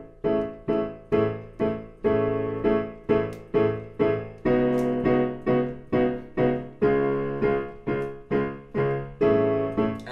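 Piano plays a three-chord pop loop, chords struck in a steady, repeating rhythm, each ringing briefly before the next, played alone at a moderate volume.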